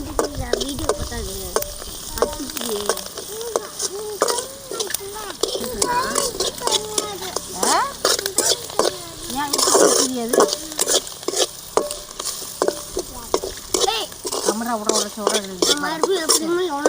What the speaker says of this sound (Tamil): சீரகம் நல்லா பொரிஞ்சிக்கிடுச்சு